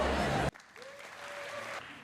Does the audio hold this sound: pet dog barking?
no